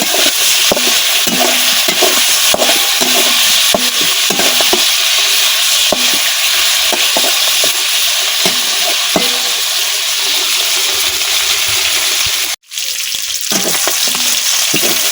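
Meat fries in a pan on a village kitchen stove, loud continuous sizzling with repeated stirring and scraping knocks, close up, with a brief gap near the end.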